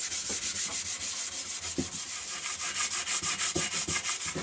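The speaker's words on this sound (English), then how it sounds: "you just have to smooth it out and get a nice key on it, a nice scuff" Abrasive scuff pad rubbed over satin paint on a Harley-Davidson XL883 Iron motorcycle part during a respray, a steady close scratchy scrubbing in rapid rhythmic back-and-forth strokes with occasional knocks.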